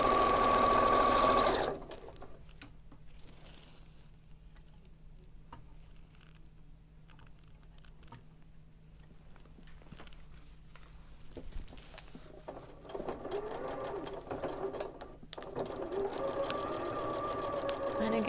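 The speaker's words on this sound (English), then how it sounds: "you're just sewing right along that solid line" A sewing machine stitches a quilt block along a marked line, a loud whir at the very start, then quieter ticking and patter of the machine and handling that build back up toward the end, with a faint steady hum throughout.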